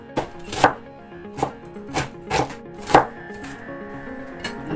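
Red onion and garlic being chopped with a knife on a cutting board, about six crisp, separate chops at an uneven pace, close by and with no talking.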